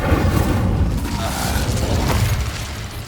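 An Incendio fire spell is cast in the Hogwarts Legacy video game, producing a loud, close, sustained roaring burst of flame with rumbling booms that fill the whole moment.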